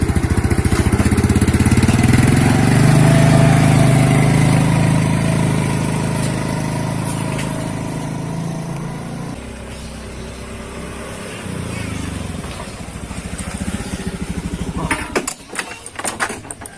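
Honda Scoopy motor scooter engine running close by, a loud steady buzzing idle that slowly fades and settles, with a few sharp knocks and handling noises near the end.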